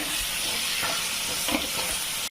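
Pav bhaji masala, a whole packet, being stirred and fried in a hot pan: a steady, close sizzle with scraping stirs throughout and no talking.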